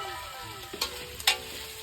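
Spaghetti with hotdog pieces frying in a pan, a low steady sizzle broken by two quick scraping stirs, close and brief, with no voices.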